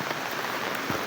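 Rain falls steadily during a storm, a dense even hiss of drops on surfaces with no talking over it.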